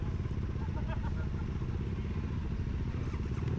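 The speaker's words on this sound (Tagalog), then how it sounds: "Daming motor." Many motorcycles at scrutineering before a motocross event idle and rumble together as a low, continuous engine drone, with occasional clatter and a voice talking over it.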